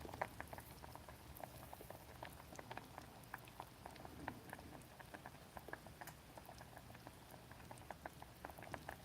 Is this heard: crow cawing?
no